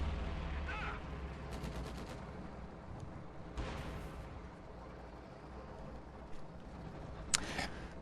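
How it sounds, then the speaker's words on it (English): A Stuka dive bomber strafing run in a World War II strategy game, a distant rumble and bursts of gunfire and blasts scattered over a low battlefield din, faint overall. "there's the Stuka strafing run."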